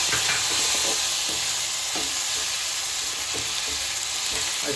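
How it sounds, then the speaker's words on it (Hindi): Tomatoes frying in a pan, a loud continuous sizzle and hiss with faint stirring scrapes, no voices. "अब इसके अंदर हम डालेंगे टमाटर यहाँ से बस, और उसके बाद इसको देंगे भूनने के लिए।"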